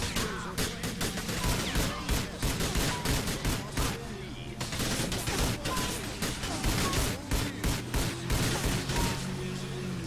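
Dense video game gunfire in Grand Theft Auto IV: The Ballad of Gay Tony, rapid repeated shots in rattling bursts that continue loudly for about ten seconds with only a brief lull midway.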